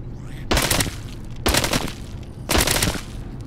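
Three evenly spaced bursts of rapid gunfire from guns in the video game Arizona Sunshine, each a sharp, loud volley about a second apart over a low background hum.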